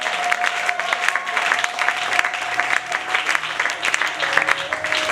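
A church congregation claps and cheers in a dense, continuous wave of applause with scattered shouts, loud and close throughout.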